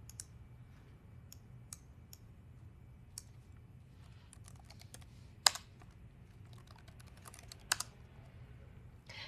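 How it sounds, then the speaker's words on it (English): Keys on a computer keyboard tapped in sparse, quiet bursts of clicks while typing a hostname into an SSH client on Windows, with a couple of sharper, louder strikes standing out over a low steady room hum. "All you need to do is type in the hostname or IP address of the computer you want to connect to."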